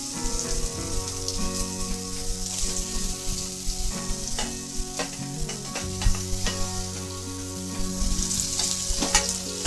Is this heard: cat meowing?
no